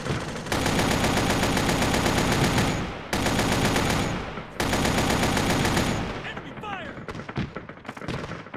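Enemy gunfire in Arma 3, with long sustained bursts of loud automatic fire broken by brief pauses, then fading into scattered shots, with voices talking underneath.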